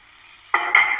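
Vegetables and salt drop into a hot pan and start to sauté. A quiet lull gives way to a sudden sizzling hiss, then a second louder burst of frying a moment later, close and with no talk.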